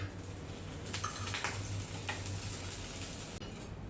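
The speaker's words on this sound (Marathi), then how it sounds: "तर याला पण छान दोन्ही बाजूने भाजून घ्यायचं." A fasting snack roasts in a pan on both sides, a quiet, steady sizzle broken by soft scraping and stirring clatters from a utensil, close by, with no talking.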